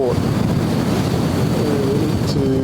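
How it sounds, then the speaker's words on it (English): Strong wind buffets the open deck of a ferry crossing from Picton to Wellington through Cook Strait, a constant loud roar of gusts and low rumble with water and engine noise underneath. "Yes, it is windy, yes"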